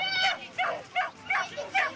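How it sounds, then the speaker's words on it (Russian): Sled dogs at a snowless dog sled race in Kazan give five sharp, excited barks and yips in quick rhythm, loud and close, with no voices between them. "Сегодня в Казани стартовали первые для нашей республики гонки на собаках в бесснежный период"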